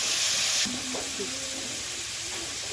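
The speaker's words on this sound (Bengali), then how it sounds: "ওই তেলের মধ্যে একটু মশলা এবার জল দিয়ে দিলাম" Water poured into hot oil with spices, ginger, green chilli and cumin, giving a loud hissing sizzle that suddenly drops to a softer steady bubbling simmer with a few stirring scrapes.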